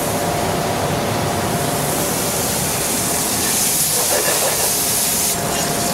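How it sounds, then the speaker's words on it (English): Cubes of foie gras sauté in their own rendered fat, giving a loud, continuous hiss of frying that holds steady from start to finish. "I'm going to saute the foie gras."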